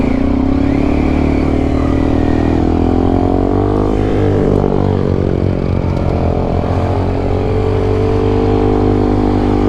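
A motorcycle engine revs steadily with the clutch held in, a loud, close, continuous drone whose pitch rises and falls slightly, with no talk over it.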